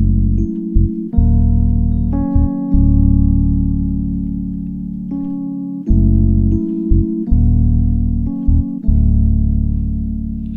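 Keyboard plays an R&B half-step chord progression, sustained chords changing every second or so with brief gaps between them, clear and close with no talking.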